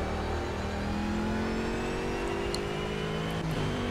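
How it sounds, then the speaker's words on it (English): A race car engine in the Project Cars racing game drones steadily and loudly throughout, its pitch sliding gradually with no sharp high revs, a continuous synthetic motor whine with no one speaking. "it doesn't feel like it's revving very high"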